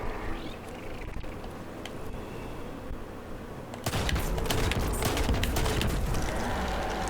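Spike grenades launched from a grenade launcher in Destiny 2, a sudden loud burst of sharp blasts and crackling impacts that breaks in midway over quieter low rumble and keeps going to the end.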